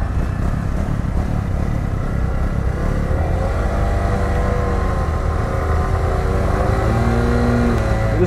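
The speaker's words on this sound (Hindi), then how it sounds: "just burning the clutch up" A vehicle engine revs steadily with the clutch being burned during a night ride, a loud continuous drone with rising and falling pitch throughout.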